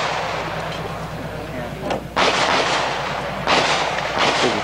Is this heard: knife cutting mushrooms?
no